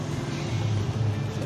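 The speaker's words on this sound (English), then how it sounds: "It sounds like you have a blow-off valve." A Dodge Duster's engine drones steadily from inside the moving car, a low continuous rumble with a slight rise in the middle; no distinct blow-off valve whoosh stands out.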